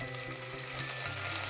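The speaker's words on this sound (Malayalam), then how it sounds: "അതിലേക്ക് നമുക്ക് കറിവേപ്പില കൊടുക്കുന്നത് മൂപ്പിച്ചെടുക്കാം" Curry leaves fry in hot coconut oil in a pan, giving a steady, fairly quiet crackling sizzle with a few sharper pops, heard alone.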